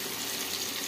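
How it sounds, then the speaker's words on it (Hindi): Running water gushes steadily as food is rinsed and strained, a short continuous close splash and flow with no talking. "चलिए इसको अच्छे तरीके से धो लेते हैं और पानी ले लेंगे उसमें से"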